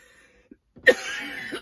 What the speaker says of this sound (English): you want to see me cough and cough